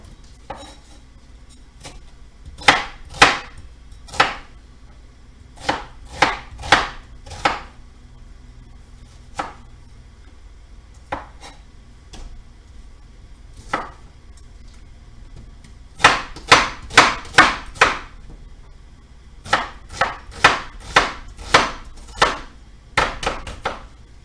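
Onions are chopped on a board in sharp, rapid bursts of knife strokes, three to six quick hits per run with short pauses between runs, close and loud in an otherwise quiet kitchen.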